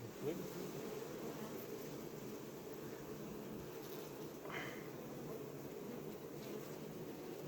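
Honeybees humming steadily around an open hive during a late-summer queen replacement, a dense continuous buzz close by with a faint passing drone over it.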